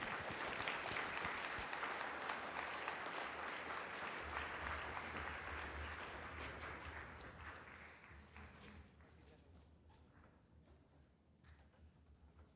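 A warm round of audience applause welcoming a musician to the stage at an elders and youth conference, steady crowd clapping for several seconds at a modest level, gradually thinning and fading into quiet room tone.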